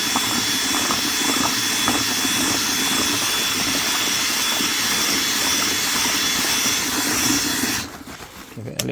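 A power mixer whisking self-levelling compound, a loud, steady whirring drone with churning texture that holds for several seconds before the speed drops off near the end.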